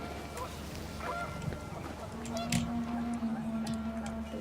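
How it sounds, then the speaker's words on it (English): Panicked geese honk in the video game What Remains of Edith Finch, several short, nasal calls scattered over a windy, faint background, with no talking. "The wind picked up and panicked geese appeared and quickly went."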